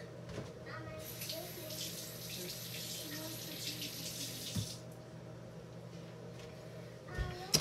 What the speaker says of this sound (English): I'm going to rinse it off real quick.